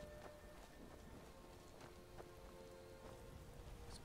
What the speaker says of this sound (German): Was plätschert da denn vor sich hin?